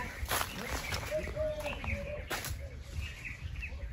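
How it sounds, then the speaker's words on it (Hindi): Birds chirp and call in a forest in India, with short tweets and a few whistled notes scattered among steady outdoor background noise; people talk nearby throughout. "वहाँ पंछी वो बोल रहा था सर"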